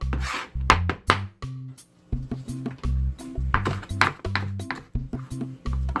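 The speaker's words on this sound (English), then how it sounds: "Just try chopping everything." A knife chops and scrapes on a cutting board in uneven bursts of taps and rubs, close up, with a short pause partway through.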